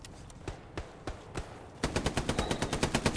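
Bursts of gunfire in the World War II shooter Hell Let Loose: a few sparse, spaced shots, then a loud rapid machine-gun string of evenly paced reports close by.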